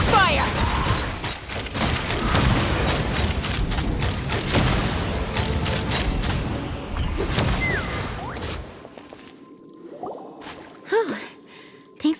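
Dense volleys of rapid gunfire and booming blasts fill a Genshin Impact battle for about nine seconds, loud and continuous, then cut off abruptly, leaving faint scattered effects and short voice sounds.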